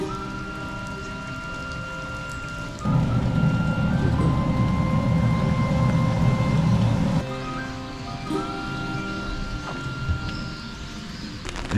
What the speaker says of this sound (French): Le Japon sous pluie, c'est quelque chose quand même.